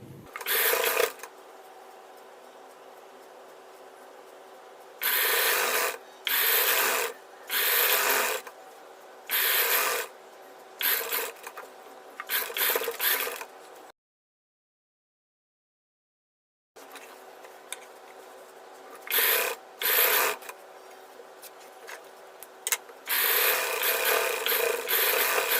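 Sewing machine stitching a collar neck blouse, running in repeated short bursts of rapid mechanical clatter, separated by pauses, with a long stretch of silence in the middle.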